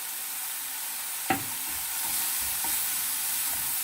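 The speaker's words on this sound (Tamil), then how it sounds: "பச்சை மிளகாய், வெங்காயம், இது கொஞ்சம் வதங்கி வரட்டும்" Green chili and onion sautéing in a pan for a veggie omelette, a steady close sizzle with one sharp utensil knock early on and a few soft stirring scrapes after.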